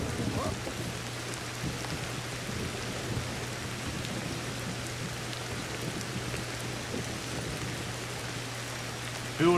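Steady rain falls in the Ancestors video game, a dense continuous downpour with a low rumble beneath it, holding even throughout.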